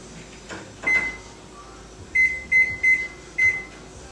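Kitchen oven set to preheat to 425 degrees gives a lone beep, then four more short electronic beeps in an uneven series, clear and close over quiet room hum with a few faint clatters.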